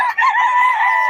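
A gamecock stag at a poultry market in Bocaue gives a single loud, close crow that sustains for about a second.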